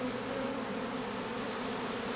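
Honey bees buzz in a dense, continuous swarm around an open hive during a quick inspection, a steady, close drone with no pauses.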